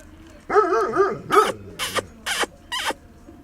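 A dog barks several times up close: a couple of drawn-out, yelping barks, then three shorter, sharp ones, with no speech.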